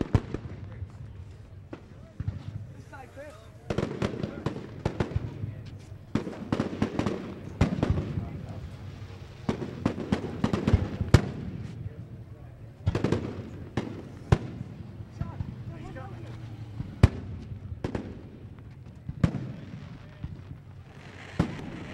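Fireworks bang and crackle in irregular bursts at a racetrack during a racing event, some loud and close, with a crowd murmuring and a voice talking underneath.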